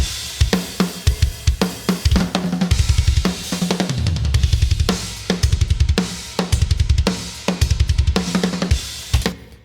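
A heavily processed heavy metal kick drum drives a full drum kit, with fast, punchy double-kick bursts and crashing cymbals, loud, tight and continuous, with no voices.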